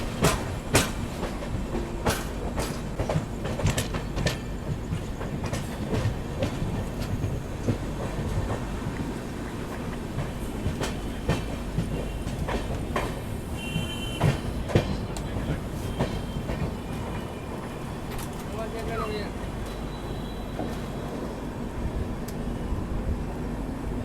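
The Rajdhani Express pulls into Asansol Junction railway station in India, its wheels clacking steadily and loudly over rail joints with sharp rhythmic knocks throughout, and a faint horn-like tone near the end.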